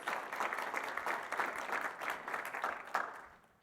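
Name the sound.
audience applause after a presentation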